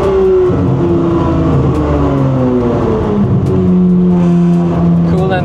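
A V12 engine howls loudly and steadily with the car window down, its pitch rising and falling through the gears while the car crawls through traffic, the note filling the cabin without pause.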